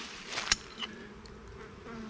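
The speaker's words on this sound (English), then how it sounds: "I don't have many bees here at all" Bees buzzing faintly around a beehive stand in an apiary, a low thin drone with a few brief louder passes close by, otherwise quiet.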